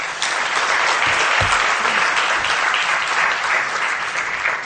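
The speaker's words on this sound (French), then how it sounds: "On accompagne encore M. le ministre avec nos applaudissements." Audience applause at the opening ceremony of a West African artisanal and small-scale mining workshop, a dense, steady clapping from a large room that holds at full strength throughout with no voices over it.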